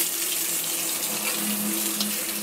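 Water pours steadily into a pan of green mango pieces cooked in mustard oil with mustard seeds, a close, continuous splashing gush.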